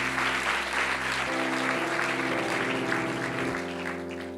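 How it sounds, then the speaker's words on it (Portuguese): A church congregation claps in steady, sustained applause, loud and full, with organ or keyboard chords sounding underneath. "Aplauda Jesus, agora pode"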